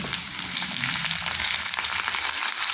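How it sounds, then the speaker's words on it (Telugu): Onions and green chillies frying in a pan over a low flame for a hotel-style mushroom curry, a loud, dense, steady sizzle that continues unbroken and close up. "వేసుకొని లైట్ ఫ్లేమ్లో దూరగా వేయించుకోవాలి."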